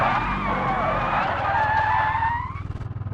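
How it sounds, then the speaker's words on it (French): Tyres skid loudly after the handbrake is pulled on a car in a vehicle presentation, a long screeching squeal sliding down in pitch over the engine drone, then settling into a pulsing rumble as the car slows. "Voilà, le frein à main, je l'ai tiré."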